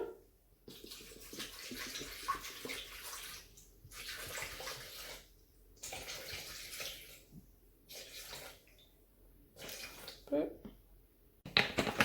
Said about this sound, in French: Je viens mettre 500 g d'eau froide directement dans le bol.